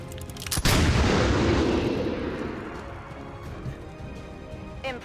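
A single pistol shot in the video game XCOM 2 cracks sharply, then a long rumbling boom rolls and fades, with a few faint clicks near the end and no talk.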